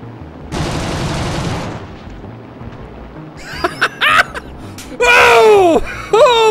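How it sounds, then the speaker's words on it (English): A long-range sniper rifle shot from over 800 meters cracks once in a video game, a brief loud blast early on followed by quieter crackling and an excited voice reacting and shouting afterward. "That was like an 800 meter plus snipe."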